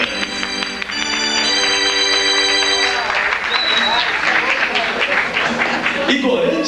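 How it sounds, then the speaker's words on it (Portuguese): Applause from the audience of a 1996 Brazilian Valentine's Day TV variety show greeting the first amateur contestants, dense clapping joining a sustained musical chord and growing fuller, with talk over it. "Palmas para eles"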